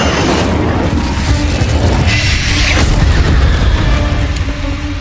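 An Incendio fire spell is cast in the Hogwarts Legacy game, producing a loud rushing burst of flame with crackling and booming impact layers over a dense game backdrop, sustained for several seconds.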